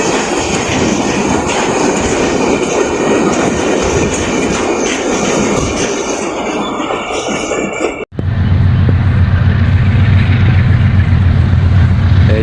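A cargo goods train on Pakistan Railways rumbles steadily past on the rails, then after a sharp break a deeper, heavier rolling roar of wagons continues close by.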